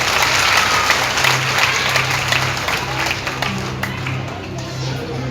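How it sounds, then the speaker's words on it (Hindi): Devotees at a Hindu religious discourse gathering give a loud, sustained round of dense applause filling the hall, with a faint low hum and murmur of voices underneath. "एक जोरदार ताली आप सब अपने लिए लगा देंगे।"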